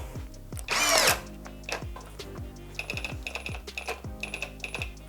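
A Procraft PI18BL cordless impact driver runs on its second speed in short, close bursts, its motor whine broken by rapid rattling hammer impacts and brief stops between pulls of the trigger.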